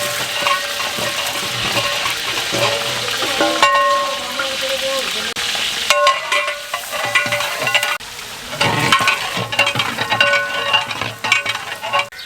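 Onions, about 1.5 kilos of them, sizzle and fry in hot ghee in a large pot for a big batch of degi chicken biryani, a steady loud crackle with stirring and occasional clinks of a metal utensil.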